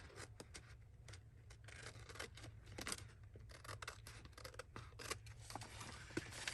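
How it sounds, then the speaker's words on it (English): Scissors cut paper for a mini journal in a rapid series of faint, close snips and rasping slides, with no talk. "I'm going to go ahead and cut around"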